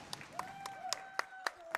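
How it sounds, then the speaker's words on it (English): Steady, evenly spaced hand claps, about seven in quick succession, sound during a speedrun showcase of Onimusha at the ESA Winter 2022 marathon, with a voice and tonal game sound running underneath. "Like that deserves a round of applause."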